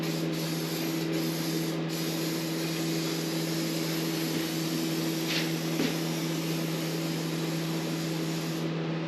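A spray gun hisses continuously and evenly, laying a third coat of white paint onto a car panel in one or two passes, with a steady compressor drone beneath and no talking.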